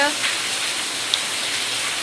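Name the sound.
heavy rain falling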